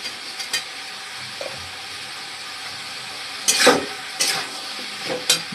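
Tomatoes sizzle in a frying pan as they are stirred for a home-cooked lunch, with a steady low crackle broken by three louder scraping, hissing bursts of stirring.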